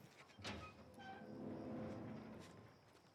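A door swinging open in The Last of Us Part 1, a soft thunk followed by a low scraping creak, quiet and brief within a hushed game scene.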